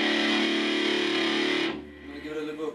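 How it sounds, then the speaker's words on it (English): An electric guitar played with low-gain distortion through a VOX Soundbox Mini amp, a sustained distorted chord ringing out, then cut off into a faint quieter tail. "I'm cutting off all effects. just for the distortion sound."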